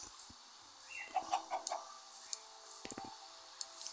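A chicken in a blocky sandbox game clucks in a few short, quiet bursts, with light clicks scattered around them and no talking.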